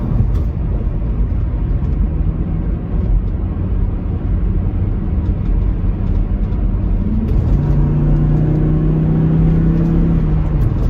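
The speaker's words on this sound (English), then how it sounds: "Something about the sound of a 5-cylinder." Volvo T5 five-cylinder engine pulling while driving, a steady low drone with road noise that swells into a clearer rising engine note in the final seconds, close and alone without voices.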